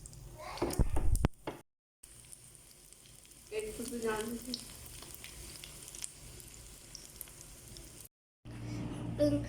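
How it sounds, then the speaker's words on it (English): Beef cutlets coated and frying in oil over a low flame, a soft steady sizzle with occasional knocks and stirring clatter, briefly cut by short gaps. "So coat this well, and then fry it at low flame."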